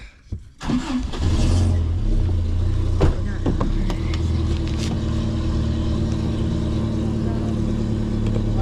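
A 1999 Toyota Tacoma 2WD engine cranking and catching, then settling into a steady, even idle close by, with a few clicks and knocks over the running engine.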